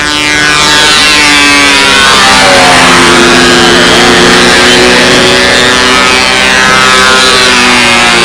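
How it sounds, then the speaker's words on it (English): A radio-controlled model Japanese Zero with a water-cooled engine runs at a windy park fun-fly contest, giving a loud, continuous buzzing drone that shifts slightly in pitch as the plane passes. "The only Japanese Zero with a water-cooled engine here on the field."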